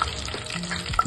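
Whole cumin, bay leaf and black cardamom dropped into three spoons of hot oil in a kadhai, a close brief sizzle with faint crackles and a couple of clinks.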